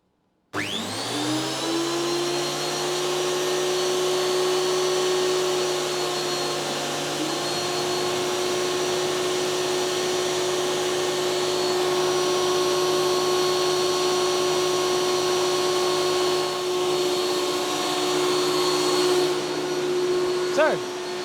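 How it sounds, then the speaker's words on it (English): A workshop dust collector on an automatic blast-gate system spins up and runs as a loud, steady roar with a sustained hum for about twenty seconds, close by, before cutting off at the end. "the dust collector needs to turn on"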